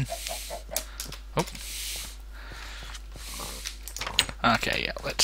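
Chicken clucking in a hardcore survival video game, short scattered clucks over a steady background hum, with someone talking through much of it.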